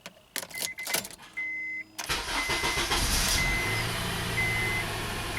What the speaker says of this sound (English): Now I'm going to go ahead and fire up the vehicle and we're going to let this thing warm up.